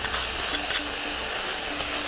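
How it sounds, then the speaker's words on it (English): Vegan food with sauce sizzles and crackles steadily in a hot pan, a constant hiss with faint clinks of stirring, no voices. "Listen to that sizzle."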